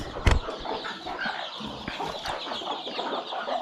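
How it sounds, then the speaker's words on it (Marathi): A village hen clucks softly and steadily near a cage holding chicks at a Konkan poultry farm, with a sharp knock or wing flap at the start and faint bird background. "ही कोंबडी बाहेर येते या पिंजऱ्यातून इथे पिल्ला आहेत"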